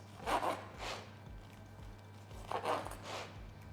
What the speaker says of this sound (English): And then for the balance, we're just going to trim off that excess.